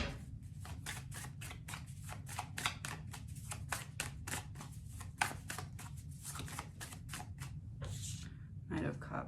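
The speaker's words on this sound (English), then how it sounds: "let me pull a card" A tarot deck shuffled and a card drawn, a rapid run of crisp riffling card clicks close by, ending with a few separate slides and taps, with a person speaking softly over it.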